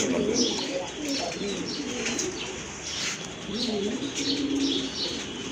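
White Danish pigeons coo in a steady, rolling murmur, several birds close by with overlapping throaty calls, a few faint chirps and wing rustles mixed in.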